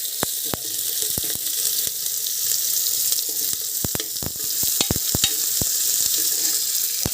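Cumin and onion frying in hot oil in a home kitchen, a steady close sizzle punctuated by sharp spatula clicks and scrapes against the pan at irregular intervals.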